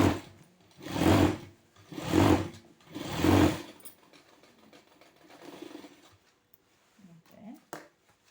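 A sewing machine stitches cloth in three short, evenly spaced bursts, each rising and falling. Quieter handling noises and faint sounds follow.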